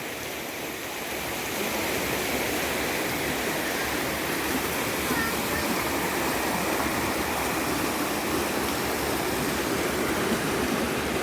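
Storm-swollen stream rushing through a flooded village, a steady broadband roar of flowing water that stays loud and continuous throughout, with no voices.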